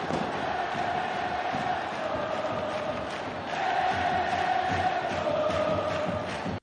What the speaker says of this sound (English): what does a crowd sound like? So I got one here from a football game